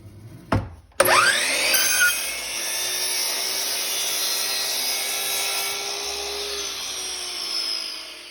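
A hand saw cuts wood for an inset panel: after a brief knock, a sustained, close, rasping cut runs steadily for several seconds and slowly fades toward the end.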